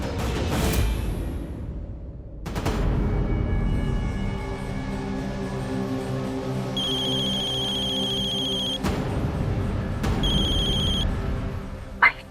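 A telephone rings several times in bursts, a bright electronic ringtone with gaps between rings, against low background rumble and a few scraping noises.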